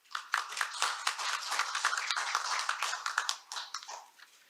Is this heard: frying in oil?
no